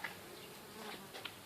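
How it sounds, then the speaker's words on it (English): Bees buzz around a drip-irrigated garden in high heat, a steady low insect drone with a few brief louder passes close to the microphone, no voices. "the bees are not so happy that I'm disturbing them"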